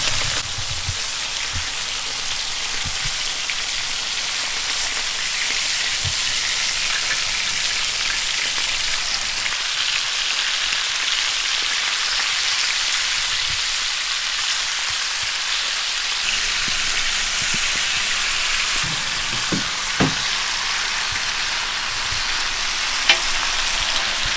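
Steady, dense sizzling of beef frying in hot oil in a saj, loud and close, with a few faint clinks and knocks underneath.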